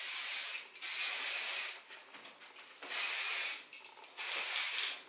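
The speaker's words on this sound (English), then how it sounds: "I just throw a little bit of hairspray in my hair" Hairspray from an aerosol can misted onto short hair in three long hissing bursts separated by brief pauses, close and fairly loud with no talking.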